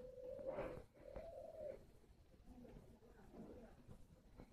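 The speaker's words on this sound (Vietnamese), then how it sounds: "Rất là nhiều chim." Spotted doves coo softly at a breeding facility, a few rounded hooting calls in the first couple of seconds followed by fainter murmuring coos, quiet and fairly close.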